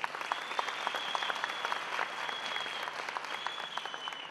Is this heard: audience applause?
yes